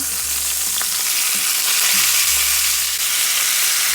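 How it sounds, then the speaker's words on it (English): Steaks fry in a pan with thyme, giving a loud, close, continuous sizzle with a low hum underneath and no talking. "we're gonna let them cook again for 15 minutes on the opposite side"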